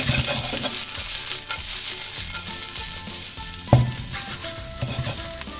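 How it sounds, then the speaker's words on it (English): Thinly sliced white cabbage fries in about a tablespoon of rapeseed oil, giving a steady, busy sizzle with crackles and an occasional stir or knock in the pan, close and continuous with no voices. "So we're going to fry off the cabbage first."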